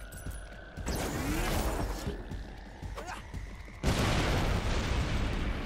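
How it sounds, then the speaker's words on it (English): Explosions in the video game Sunset Overdrive, with a burst of crackling debris and a rumbling boom, then a second, louder blast that rolls on as dense noise, heard without talk. "We had to get another explosion."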